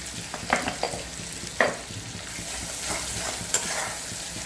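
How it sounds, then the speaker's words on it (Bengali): Spice paste for a Bengali katla fish curry is stirred and scraped in a frying pan after salt goes in, giving several distinct scraping strokes over a steady low sizzle, close and alone. "দিয়ে আর একটু নাড়িয়ে চাড়িয়ে নেব মশলাটা।"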